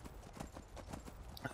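Horse hooves clip-clop in the video game Skyrim, a steady run of evenly spaced hoofbeats at moderate volume with no talking over them.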